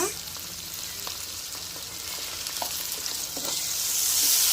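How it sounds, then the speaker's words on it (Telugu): Ginger-garlic paste sizzles and fries with browned onions in a pan for a village-style country chicken curry, a steady close crackle with occasional stirring scrapes, growing slightly louder toward the end. "ఉల్లిపాయలు వేగిపోయినాయండి అల్లం చిమ్మకాయ పేస్ట్ అయితే వేస్తున్నాను"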